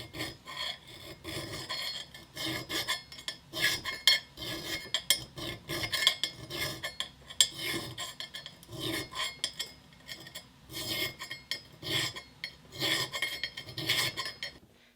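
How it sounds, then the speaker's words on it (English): Rasping strokes of a file on the eye of a steel axe head, smoothing down raised ridges: repeated gritty scrapes in an uneven rhythm, close and fairly loud, with no talking. "So I'm gonna be filing this right now so that the ridges like don't really stick out as"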